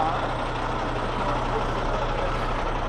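A big truck idling in the Australian desert, a steady low diesel rumble with a constant droning hum, with a voice talking nearby.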